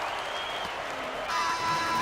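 A crowd cheers and applauds in a basketball video game after a Lakers three-pointer by Kareem Abdul-Jabbar: a steady, distant wash of roaring crowd noise that swells slightly toward the end.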